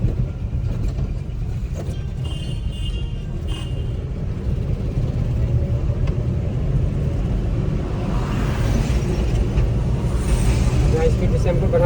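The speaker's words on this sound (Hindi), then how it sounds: "सेकंड में चल रही है गाड़ी, चली जा रही है।" Car engine pulling steadily in second gear on a busy road, a continuous low rumble with drone from other traffic, close and loud throughout.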